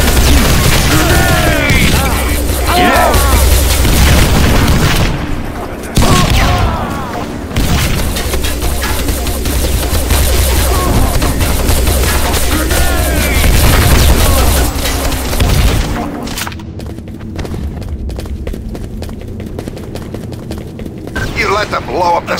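Grenade explosions and gunfire from Enemy Territory Quake Wars on a 12 vs 12 Salvage map, a loud, dense wash of booms and rapid shots, with voices shouting over the chaotic battle noise before it thins into scattered sharp cracks.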